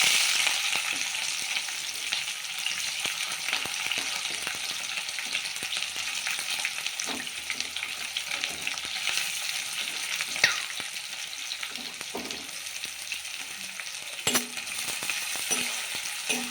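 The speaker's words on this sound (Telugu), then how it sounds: "ఉల్లిగడ్డ వేగేంత వరకు వేపుకోవాలి" Sliced onions, two medium ones with green chillies, sizzle steadily in hot oil in a pan for a goat tripe curry, a continuous crackling hiss with a few soft stirring knocks and no voices.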